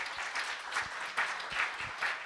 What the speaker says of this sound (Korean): 여러분 박수를 보내주시기 바랍니다